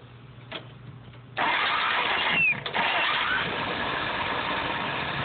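Warm restart of an engine after a road test: a quiet low hum, then the starter catches at about 1.3 seconds and the engine settles into a steady, close idle.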